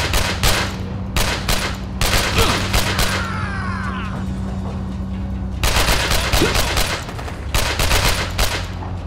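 Bursts of weapon fire in the video game Manhunter, rapid broadband volleys in several clusters with a quieter stretch of mechanical texture in the middle, loud and close.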